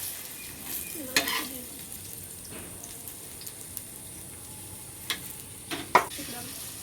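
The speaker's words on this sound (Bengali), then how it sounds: "তাওয়ার উপরে তেল দিয়ে দিয়েছি এইবার দেখো এইভাবে ভেজে নিচ্ছি" Batter-dipped chicken egg kabab rolls frying in oil on a tawa give a faint, steady sizzle, with a few sharp clinks and taps of utensils scattered through it.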